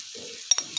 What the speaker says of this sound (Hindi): तो अभी हम लोग इसमें शेज़वान सॉस डालेंगे।